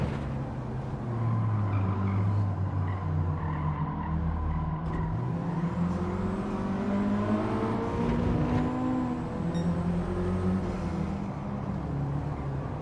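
A game car engine drones steadily, with pitch rising and falling through gear changes and revs, continuous and fairly loud with no talking.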